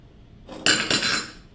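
A spatula working baking powder in a mixing bowl for vegan carrot muffins, a short burst of scraping and clinking against the bowl, close and fairly loud, ending in a quick fade; no talk.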